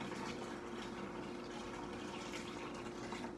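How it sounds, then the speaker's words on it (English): Dark homemade beer pours steadily into a bucket, a continuous close splashing, trickling rush of liquid with no talking. "So here's gonna pour into the bucket."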